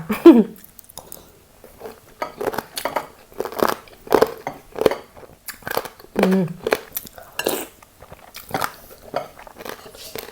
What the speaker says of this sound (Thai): ได้ยินเสียงยำกระดูก